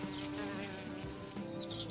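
Honey bees buzzing around hives in a garden, a dense close drone of many wings filling the short stretch without voices.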